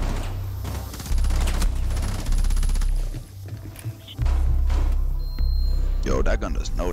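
Rapid bursts of gunfire from a first-person shooter video game, with loud repeated automatic shots and rumbling impacts, while a player's voice talks over the action.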